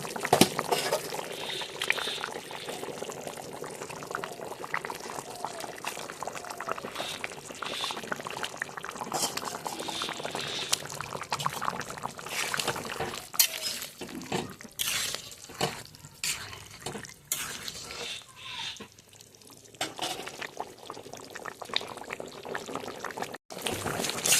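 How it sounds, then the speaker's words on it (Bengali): Fish heads slipping into a pot of bubbling curry broth, steady boiling and liquid churning throughout, with a few splashy drops and stirring sounds, close and moderately loud, no talking. "এবার আমি এর মধ্যে মাছের মাথাগুলো ছেড়ে দেবো"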